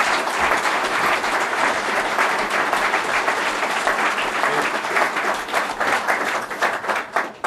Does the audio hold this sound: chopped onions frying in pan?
no